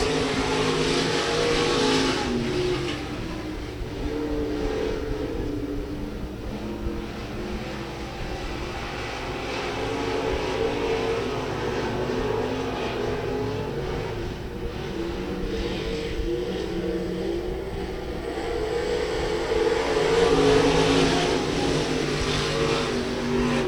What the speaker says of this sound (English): The 63 of Roller looking to move to the inside.